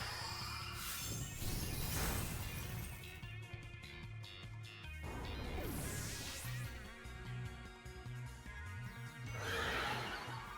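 A horse whinnies as Calyrex Ice Rider uses the Chilling Neigh move in a Pokémon battle, layered with dense music and crashing effects throughout.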